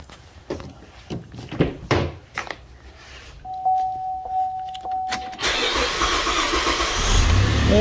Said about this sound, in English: So let's see if the carb will start.